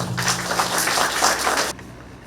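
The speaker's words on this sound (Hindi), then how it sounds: "उनका जोरदार तालियों के साथ स्वागत किया जाए" An audience at a Sant Nirankari Mission gathering claps warmly to welcome visiting officials, a dense, steady burst of applause that stops abruptly.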